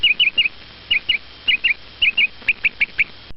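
A bird from the film The Watchers gives a rapid series of short, bright chirps in pairs and quick bursts, loud and close, with no other sound behind them.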